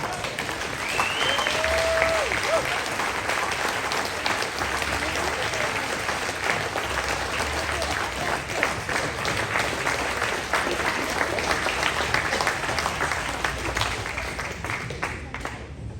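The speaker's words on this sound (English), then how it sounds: "Y'all make some noise for one of the greats, Mr. Allan Olson." A crowd at a rodeo hall-of-fame induction gives sustained, loud applause with scattered whoops for the inductee, a steady wash of clapping lasting well over ten seconds.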